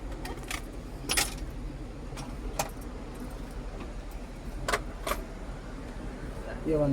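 Keys for a machine jangle in bright, sharp metallic bursts, a few clustered shakes spread across the span, close by over a steady background hum.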